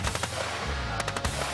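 Remote-controlled machine gun firing a rapid burst of loud, closely spaced shots that continue steadily through the short stretch, with no talking over them.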